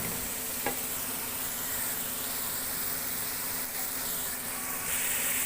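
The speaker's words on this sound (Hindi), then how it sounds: "और कीमे को हम 5 to 10 मिनट्स के लिए भूनेंगे इसी तरीके से।" Minced keema meat with spices frying in a pan, a steady, close hiss and sizzle that continues throughout with a faint clink near the start.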